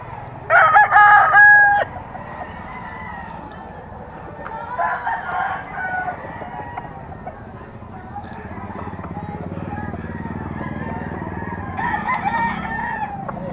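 A bulik gamecock rooster from a Pampanga breeder crows loudly once near the start, followed by softer clucks and calls over background chatter.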